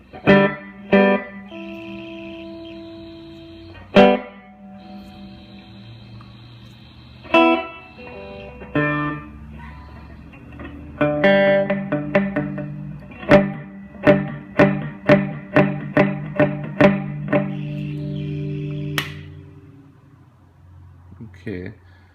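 A Silvertone 1484 tube guitar amp with its reverb switched on, played as a distorted, echoing guitar: scattered strummed chords and single notes ring out, then a quicker run of picked plucks, each tail washing into spring reverb.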